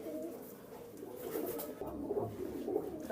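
Flying pigeons of a Pakistani breed cooing softly, a low murmuring coo at close to moderate distance with faint background noise.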